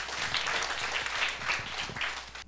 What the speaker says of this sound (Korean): 너무 고마워요. 박수할게요.